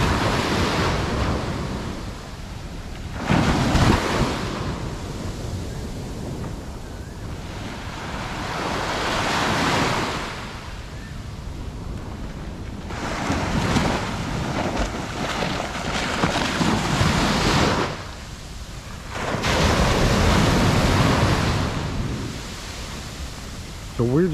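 Ocean waves breaking at dawn on a Thailand shore, surging in repeated loud washes with quieter lulls between, mixed with wind buffeting the microphone.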